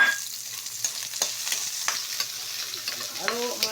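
Chopped onions sizzle in hot oil in a pan while a utensil stirs and scrapes through them, giving a steady crackle broken by short clanks and scrapes, close up and with no talking.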